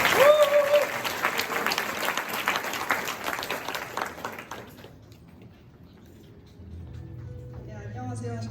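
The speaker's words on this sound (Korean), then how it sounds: "크게 우리 박수로" Audience applause at a graduation ceremony, a dense burst of many hands clapping that fades out after about four seconds, followed by quiet room tone and faint speech.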